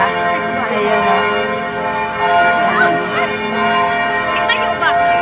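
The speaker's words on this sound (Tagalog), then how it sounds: "Kaya ayan, nagkakalimbangan ng kampana." Church bells at Baclaran Church ring out after mass, a continuous clanging peal heard fairly close over crowd murmur and people talking nearby.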